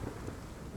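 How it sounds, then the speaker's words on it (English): A thunderstorm over the Alpine mountain slopes, a continuous deep rumble of thunder mixed with heavy rain hiss, dense and unbroken, with no voices. "the storm can arrive without warning"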